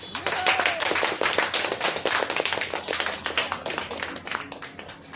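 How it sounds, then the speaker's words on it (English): At a Toastmasters club meeting an audience gives standing applause to an award recipient, with distinct individual claps rattling in quick irregular bursts from a small group and a brief voice near the start. "Let's give a standing applause to her."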